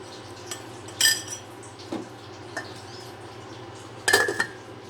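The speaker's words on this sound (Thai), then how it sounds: "ปิดฝาอีกรอบหนึ่ง" Metal clinks and clatters from a pot lid being set onto a pot of tilapia curry with oyster mushrooms and young peppercorns, two sharper clanks standing out over a low hum.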